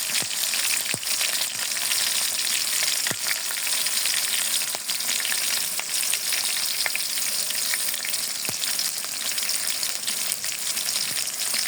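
Cumin paste with mixed spices frying in a pan of hot oil for a spicy chicken curry, a loud, dense and continuous sizzle with occasional sharp pops and spoon ticks, close up with no voices.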